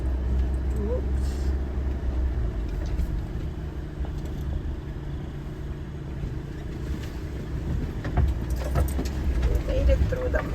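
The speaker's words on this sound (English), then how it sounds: "We made it through the mud." A small SUV grinds slowly through mud on a dirt road at a campsite in the Algonquin Highlands crown land, its engine giving a steady low drone with scattered splashes and rattles, while people talk over it.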